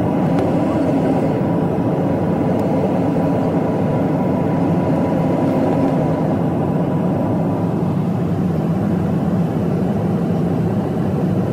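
Constant loud low roar of engines and machinery fills the air at Kano Airport in Nigeria, an unbroken drone with no clear voices, steady from start to finish.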